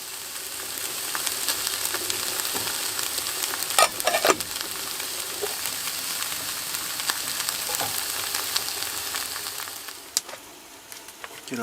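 Pork chops frying in a pan inside a prospector tent, a steady close sizzle and crackle with a couple of brief scraping knocks, no talking.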